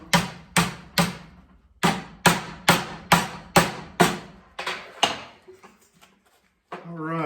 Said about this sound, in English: I'm kind of driving my hammer down a little bit, move the metal the direction that I want.